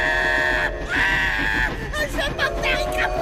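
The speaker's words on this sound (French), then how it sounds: "Et n'oublie pas d'hurler très fort." A woman screams loudly in a high, strained pitch at an approaching train, in an animated comedy scene where she seems tied down; the cry runs in long sustained bursts with brief breaks over a rough background.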